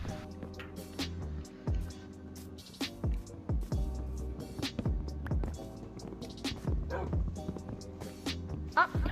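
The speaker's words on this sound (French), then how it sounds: "Il y a un toutou." A dog barks and yips in Minecraft 1.17 survival play, several short sharp calls spread through the stretch over music and game sounds, with talk nearby.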